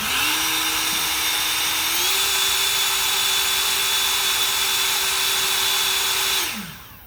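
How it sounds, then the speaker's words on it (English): Ego 765 leaf blower running on turbo mode, a loud, steady electric whine and rushing airflow that steps up in pitch after a couple of seconds, holds, then winds down at the end. "now we've got the 765 up there, and I'm going to test how loud it is on turbo mode"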